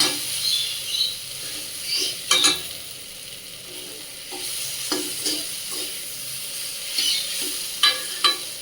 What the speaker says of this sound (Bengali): আমি গ্যাসটা মিডিয়াম সিজনে করে ভেজে নেবো